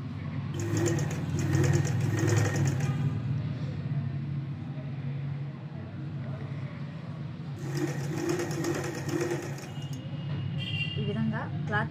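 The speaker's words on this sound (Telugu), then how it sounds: "ఈ విధంగా లంగాని మనం స్టిచ్చింగ్ చేసుకోవాలి." A sewing machine stitches petals onto a baby's skirt, a steady close mechanical whir with brief louder bursts as the needle runs, while someone talks over it throughout.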